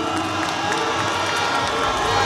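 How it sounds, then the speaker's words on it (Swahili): At a Yanga club event, a large crowd cheers and shouts steadily for the sponsor, a dense, continuous roar of voices with possible applause mixed in. "tumpigie makofi, yuko jukwani"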